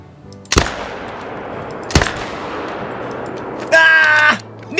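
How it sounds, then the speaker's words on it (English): Hunting rifle shots in the Call of the Wild game: two sharp, loud single cracks a second or so apart, each trailing into outdoor ambience, followed by a brief tonal game sound. "now we're gonna shoot as many as we can as long as we leave 2 in the zone"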